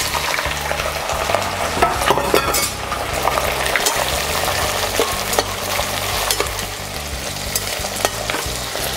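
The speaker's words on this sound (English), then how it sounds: "Right, first thing is to fry the prawn heads." Prawn heads fry in hot oil in a pot for Hokkien mee, a steady loud sizzle and crackle with repeated stirring clatter throughout, no voices.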